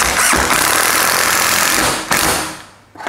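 A 12 V Mollar CIDR12 impact driver driving a screw into plywood, loud rapid hammering rattle that runs steadily for about two seconds, briefly restarts, then winds down to a stop.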